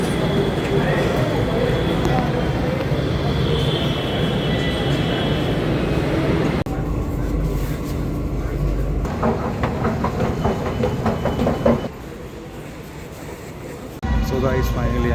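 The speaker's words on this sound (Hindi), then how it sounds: "मेट्रो।" Metro train ride, with a steady rumble and rail noise that later shifts into clattering, rhythmic wheel clicks and changing interior sounds, and voices heard over it.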